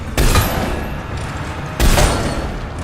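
Two heavy shots from a Black Widow sniper rifle in Mass Effect 3, each a loud booming blast with a lingering tail, about one and a half seconds apart.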